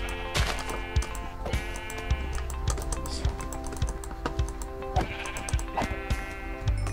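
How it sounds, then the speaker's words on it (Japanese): A donkey in Minecraft gives repeated braying calls, heard over a steady clatter of computer keyboard typing. "お、ロバがいる。"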